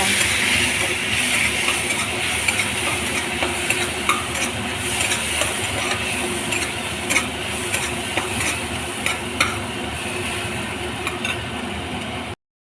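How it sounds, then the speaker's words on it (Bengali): Tomato puree made from ground tomato is stirred and sautéed in a pan for paneer butter masala, giving a steady close sizzle with continuous scraping and stirring throughout, no voices. "সেই টমেটোটা দিয়ে দেবো দেওয়ার পর এটিকে ভালো করে কষিয়ে নেব"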